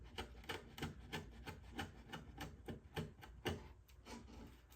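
Wood gouge cutting away excess soundboard, a quiet rhythmic series of short scraping strokes, roughly a dozen in quick succession, close up with no talking.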